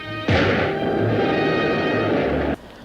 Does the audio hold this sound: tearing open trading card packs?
no